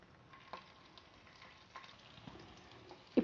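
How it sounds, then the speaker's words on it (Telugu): Coriander seeds, dried red chilies, garlic cloves and tamarind fry quietly in a pan, a soft low sizzle broken by a few faint stirring clicks and one sharper knock near the end. "ఇప్పుడు వీటన్నిటిని 1 నిమిషం పాటు ఫ్రై చేయాలండి."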